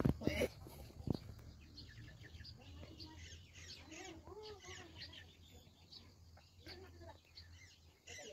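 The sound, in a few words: chickens clucking near village hen house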